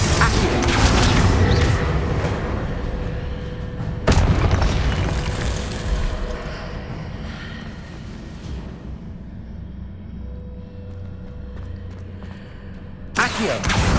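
Spell blasts and explosions in the game Hogwarts Legacy: heavy booming bursts with rumbling decay, a sharp blast partway through and another near the end, over a lower background hum.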